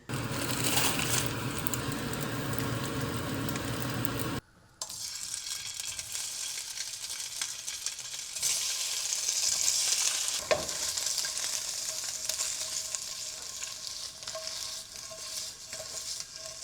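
Edamame cook in oil in a stainless steel pan, a steady close sizzle and hiss that drops briefly, then resumes with occasional stirring scrapes and crackles.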